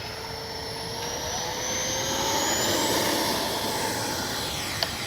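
A FLYFANS L-39 RC model jet takes off in the morning, its turbine a steady loud whine that swells and holds as the aircraft accelerates away, with a faint tonal sweep overhead.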